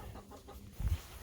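Farm chickens give a low, short cluck or two, fairly close, over faint outdoor background noise.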